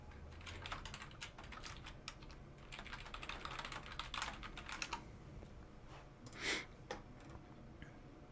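Rapid clattering keystrokes on a computer keyboard in uneven bursts, close up, with a short pause and one louder clack before typing resumes.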